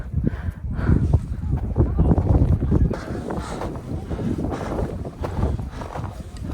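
Strong wind buffeting the microphone on snowy Deogyusan mountain, a loud, constant low rumble with gusty surges, up close and filling the scene.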